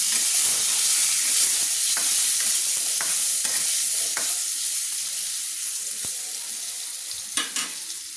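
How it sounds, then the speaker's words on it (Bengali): Pointed gourd fries in a pan seasoned with turmeric and salt, giving a loud, continuous hissing sizzle throughout, with scattered faint stirring clicks and a couple of sharper knocks near the end. "পটলটা আমি ভেজে নিচ্ছি।"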